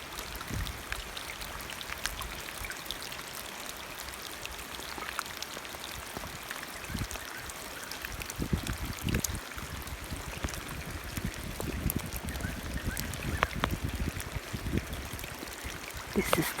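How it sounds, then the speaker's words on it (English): Rain falls steadily while runoff trickles and splashes into a small temporary pond near a house, a continuous close watery patter with scattered sharper drips throughout. "It's raining again."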